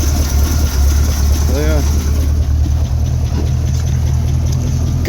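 A 1974 International 1600 truck engine, just cold-started with the choke pushed in, idles with a low, steady rumble close by while a man briefly exclaims over it.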